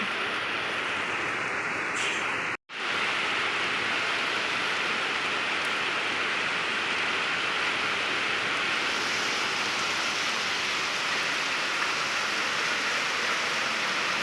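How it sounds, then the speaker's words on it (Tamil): Heavy rain pours down in a dense, constant hiss that stays loud and steady throughout. One brief dropout breaks it near the start, and no one speaks. "எவ்வளோ மழை இருக்குது இப்போ வந்து மழை வரும்போது நான் எடுத்துட்ருக்கேன்"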